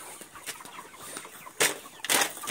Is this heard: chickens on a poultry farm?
yes